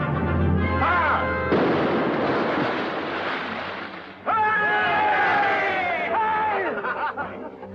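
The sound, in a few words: ship cannon firing in a 1945 film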